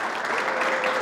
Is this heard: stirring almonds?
no